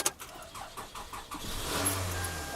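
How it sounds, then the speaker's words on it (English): A car engine cranks with a rhythmic starter whir for over a second, then catches and settles into a steady running idle, fairly close. "Oh my gosh, my car started!"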